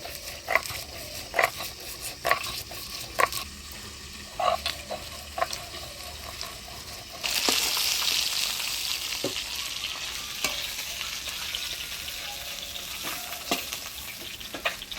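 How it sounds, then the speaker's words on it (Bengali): Fish heads fry in hot oil, first as intermittent spattering pops and scrapes, then as a louder, continuous sizzle from partway through. "মুড়াগুলো বেশ লাল করে ভেজে নিলাম"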